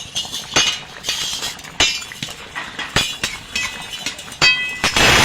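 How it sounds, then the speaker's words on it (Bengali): A utensil stirs a pan of mrigal fish, potato and tomato curry, making a sharp, irregular series of metallic clinks and scrapes against the pan, close and fairly loud, with no voices. "নাড়িয়ে দেবো।"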